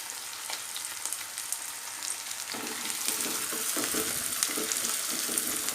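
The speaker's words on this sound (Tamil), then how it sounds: "வெங்காயம் நல்லா வதங்கட்டும்" Small onions, crushed garlic, curry leaves and dried red chillies sauté in hot oil with a steady close sizzle and scattered crackles that grow busier partway through.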